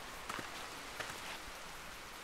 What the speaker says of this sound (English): can I turn the rain down?